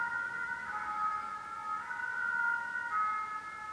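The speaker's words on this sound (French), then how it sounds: "J'ai parlé pendant qu'il y a une ambulance qui passe." An ambulance siren passes outside, its warbling two-tone wail steady and moderately distant, running throughout at even loudness.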